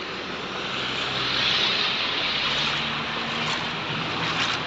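A vehicle rolls through a flooded street during rain in the UAE, a continuous broad wash of engine drone and water spray that swells slightly midway and stays fairly even throughout.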